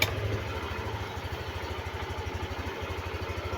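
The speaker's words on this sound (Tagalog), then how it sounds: "painit tayo ng motor" A modified Yamaha Aerox motorcycle idles while warming up, its engine putting out a steady, rapid low throbbing pulse close by, with no one speaking.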